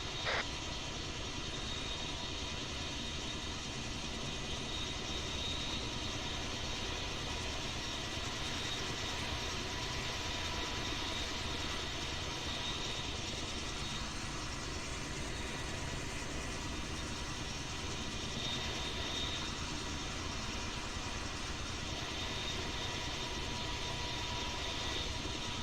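An airplane engine drones steadily overhead, a continuous, even roar that holds at constant loudness throughout with no talk.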